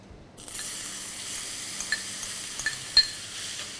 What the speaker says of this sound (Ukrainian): Коли воно розтопилося, висипаємо цукор і помішуємо.